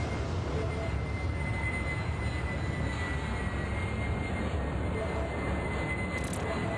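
Jet airliner taking off in the airport game Airport Madness World Edition, a steady broadband engine roar with a high whine, constant and loud throughout, no voices.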